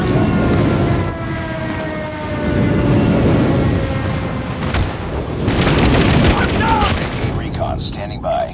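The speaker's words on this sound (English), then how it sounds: "Enemy airstrike incoming." Enemy airstrike in a mobile FPS multiplayer game, heard as heavy rolling booms and rumbling blasts. Gunfire and other battle noise run throughout, with a fresh burst of explosions late in the clip.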